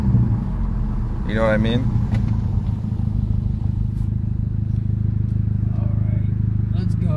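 A cheap $1,800 car gurgles, pops and rattles while driving, a steady close engine rumble running under people talking.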